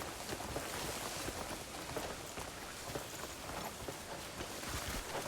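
Horse hooves clip-clop steadily in the Crimson Desert video game, a rapid rhythmic patter of hoofbeats over a wash of rain-like noise, faint and continuous.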